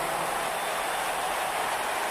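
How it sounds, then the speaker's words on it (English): A steady, dense cicada buzz from the WWE 2K19 video game drones loudly and evenly throughout, a continuous hissing whine with no breaks and no voices. "It's the sound of the cicada emerging after years of slumber from their underground existence."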